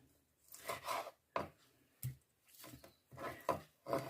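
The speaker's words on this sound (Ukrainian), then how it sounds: "Так як я ріжу її, так як прийдеться." Raw liver cut with a knife on a board makes a series of soft, wet slicing and scraping strokes, close and fairly quiet, with short pauses between cuts.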